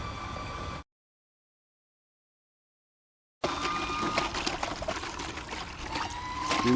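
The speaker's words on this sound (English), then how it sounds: "Now we've got a real good flow of water coming through here." Water gushes steadily out of a French drain pipe just cleared with a drain cable, a continuous splashing rush that cuts out for a few seconds and then returns louder.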